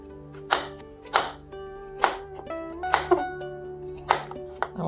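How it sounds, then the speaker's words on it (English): An English cucumber cut into bite-sized pieces with a knife, giving crisp, distinct chops about every second against a board, close and clear with no talk. "Now let's cut these into bite-sized pieces."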